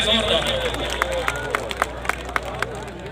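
Spectators clapping at a volleyball match: a run of sharp rhythmic claps, evenly spaced, under loud announcer talk and crowd murmur outdoors.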